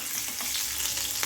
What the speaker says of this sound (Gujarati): જીરું તતડી જાય એટલે 5 ચમચી હિંગ નાખીશું